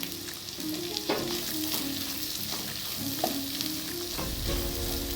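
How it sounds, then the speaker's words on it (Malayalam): Capsicum and other vegetables sauté in a pan with a continuous loud sizzle, while a spatula stirs and scrapes them with occasional clanks against the pan, close up and without talk. "അപ്പോൾ അതെല്ലാം കൂടെ ഇട്ടിട്ടൊന്ന് വഴറ്റിയെടുക്കാം"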